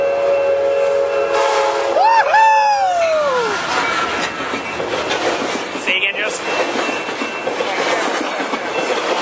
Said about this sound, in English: I figured this coaster would be coming back north